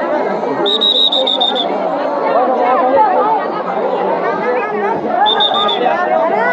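Dense crowd chatter fills the main gate of Kantojiu Temple in Dinajpur, a steady loud babble of many voices with two brief whistle-like tones rising above it.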